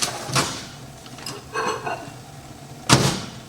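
A kitchen microwave oven, heating a block of cream cheese, gives a few short clunks and clicks as its door is handled, with the sharpest thud near the end.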